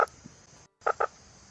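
A played recording of a frog croaking: a few short, sharp croaks with a brief silent gap before a closely spaced pair, clear against a faint insect-like background hiss.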